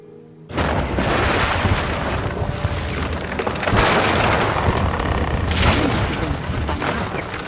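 A bomb blows up a ship in Guild Wars 2, bursting in suddenly from near silence into a sustained loud roaring blast with rumbling swells and crackle lasting several seconds.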